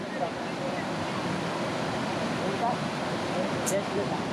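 The Kali river near Dandeli flows past the bank in a steady, broad rushing wash that continues unbroken and fairly close, with faint wind noise and no speech.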